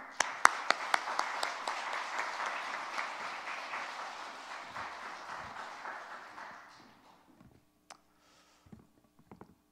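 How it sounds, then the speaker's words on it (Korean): A church congregation claps warmly to welcome their pastor, a dense burst of steady applause that lasts about six seconds, then thins out and fades into a few scattered late claps. "우리 목사님 나오실 때 박수로 환영하도록 하겠습니다."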